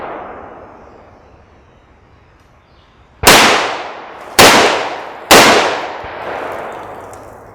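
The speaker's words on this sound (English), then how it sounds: "So I was able to successfully shoot through the purse" Three handgun shots fired through a concealed carry purse at a target outdoors, sharp and loud with ringing decay, spaced about a second apart after a quiet lead-in, no talk.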